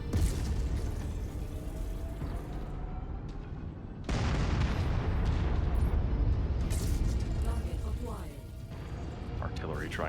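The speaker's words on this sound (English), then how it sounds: "Artillery trying to hit me" Artillery shells pound down in the mech combat game Mechwarrior 5: Mercenaries, a heavy crashing barrage that surges in partway through over a steady rumble of battle noise, with players chatting throughout.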